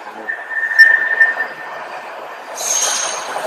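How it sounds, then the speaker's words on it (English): A train running on rails during a three-hour journey, a steady rumbling roll with a sustained metallic wheel squeal near the start and a brighter hiss rising toward the end, with no voices. "3-hour train journey."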